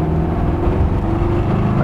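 An old 1954 Chevrolet five-window pickup with a swapped LS1 V8 accelerates on a speed run, a deep, loud engine roar heard close with steady low rumble throughout.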